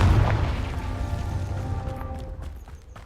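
A Confringo fire spell blast in Hogwarts Legacy, a deep booming burst at the start that trails off into a fading rumble with faint crackles.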